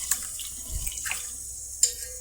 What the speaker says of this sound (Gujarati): આપણે ભાતને આ રીતે પાણીમાં ધોઈ નાખીશું સરસ રીતે